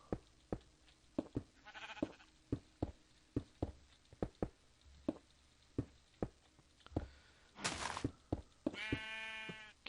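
A Minecraft sheep bleats several times near the end, loud and close, over a steady run of knocking block-breaking or placing thuds that tap out a regular rhythm.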